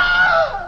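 A short scream sound effect played during an improv comedy show, a bright, sustained shriek that holds strong for most of its brief length and then tapers off, heard alone with no talking.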